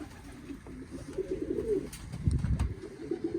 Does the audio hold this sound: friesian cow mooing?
no